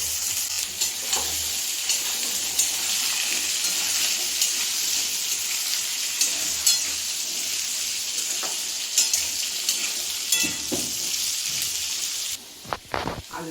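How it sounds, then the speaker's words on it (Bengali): Potato pieces fry in hot oil seasoned with panch phoron and green chilli, a steady close bright sizzle with occasional spits and stirring clinks, ending with a few sharper pan knocks. "আলুটা অল্প একটু ভাজা ভাজা মতন হয়েছে"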